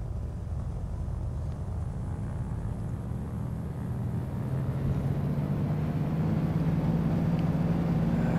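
In Flight Sim World, an aircraft engine throttles up for takeoff, a low, even drone that slowly rises in pitch and grows slightly louder over several seconds, steady and continuous with no talk.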